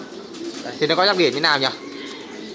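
Thai squab pigeons coo in short, close, wavering calls lasting about a second, with someone speaking Vietnamese just before and after.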